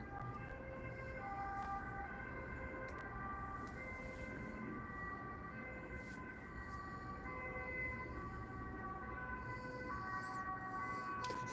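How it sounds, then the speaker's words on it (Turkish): An ambulance siren wails steadily in the distance, its tones holding over a constant background of traffic rumble. "Ambulans gidiyor."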